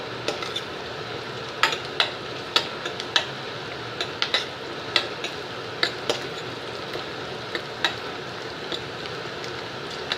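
Green chilies frying in oil in a pan for a Tamil kanthari chili pickle, a steady soft sizzle with scattered light clicks and stirring taps, close and alone with no talking.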